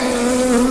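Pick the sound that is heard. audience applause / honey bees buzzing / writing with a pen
honey bees buzzing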